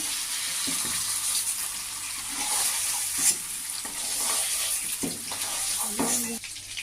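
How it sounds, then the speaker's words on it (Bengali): Paneer cubes frying in oil in a pan, a continuous close hiss and sizzle with occasional soft stirring knocks, fairly loud and steady throughout. "পনিরগুলো ভাজা হয়ে গেছে এবার আমি তুলে নিচ্ছি"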